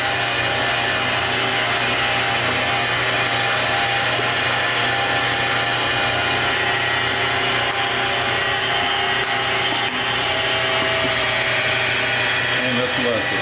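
A meat grinder churns meat for homemade pepperoni, a loud continuous motor drone with grinding texture running throughout, with a voice talking over it.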